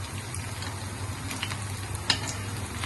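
Unniyappam batter fries in hot oil, a continuous soft sizzle and bubbling hiss with a few small clicks and pops from turning the fritters.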